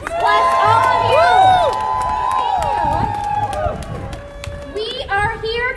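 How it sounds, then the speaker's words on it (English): A crowd at a Minnesota rally to release the Mueller report cheers and shouts, with whoops and raised voices blending into a steady roar throughout, with some clapping mixed in. "Keep applauding, keep applauding."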